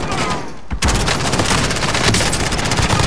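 Rapid automatic gunfire from the Call of Duty: Modern Warfare video game, a dense, loud, continuous burst of shots after a brief lull, filling the scene.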